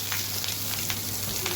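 Squash fries in a hot pan with a steady, close sizzle and a few soft crackles and light stirring scrapes, continuous and fairly loud, with no talking.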